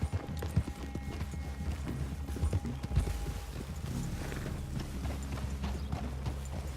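Horse hooves clip-clop in an uneven trotting rhythm in the video game Red Dead Redemption 2, several animals moving together, with faint background ambience and no talking.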